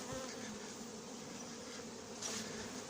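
Honey bees swarm around a queenless hive during a colony merge, a dense steady buzz that fills the whole stretch with a slight swell near the end and no voices.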